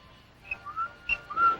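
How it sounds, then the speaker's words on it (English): A boy whistles a signal in a 1961 World War II film scene, a few short clear whistled notes spaced apart, moderately loud against a quiet background. "The boy's whistling."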